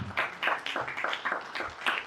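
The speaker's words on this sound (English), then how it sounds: "Ladies and gentlemen, please, a round of applause one more time." An audience claps at an evening talk event, a run of steady, fairly close hand claps in quick succession with no one speaking.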